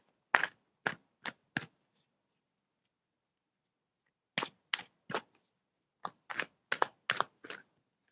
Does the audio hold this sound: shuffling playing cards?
yes